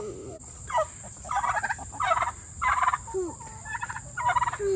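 Turkeys gobble in a rapid series of warbling calls, close and loud, one burst after another over a steady high-pitched hum.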